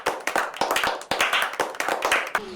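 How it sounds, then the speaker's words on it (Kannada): Crowd clapping during a Kannada TV comedy family skit, dense applause from several hands with short bursts and brief gaps, steady and fairly loud throughout. "ಚಪ್ಪಾಳೆ"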